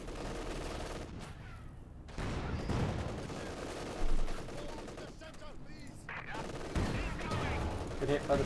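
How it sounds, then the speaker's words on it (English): Battlefield audio from Company of Heroes 2, with a field gun firing at a Panzer IV amid dense gunfire and machine-gun bursts and heavier booms, fairly loud and continuous, under a commentator's voice. "Good hit by the field gun on the Panzer IV."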